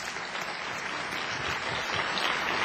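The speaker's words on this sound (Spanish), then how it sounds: "Dele un aplauso al Señor con todo su corazón." A church congregation at a Sunday morning service applauds steadily, a soft, distant wash of many hands clapping without pause and with no voices over it.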